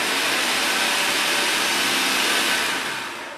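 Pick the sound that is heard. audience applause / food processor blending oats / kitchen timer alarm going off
food processor blending oats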